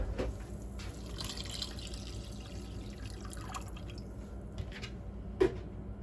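Water being added to bulgur wheat porridge, a faint low trickle and drip running steadily, with one brief louder splash near the end and no voices.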